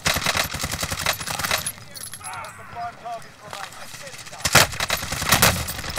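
Gunfire in the video game Warzone, with loud rapid bursts from an M16 rifle at the start and again near the end, and quieter talk between the bursts.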